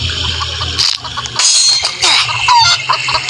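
A chicken in the Roblox video game clucks in several short, loud bursts, with a faint watery background and possible voices between the calls.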